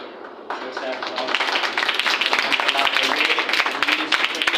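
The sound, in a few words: audience clapping for a speaker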